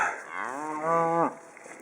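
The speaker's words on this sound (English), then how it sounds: "And here comes another cow." A half Jersey, half Angus cow moos once, a drawn-out, rising then falling low bellow close by, followed by a brief faint knock.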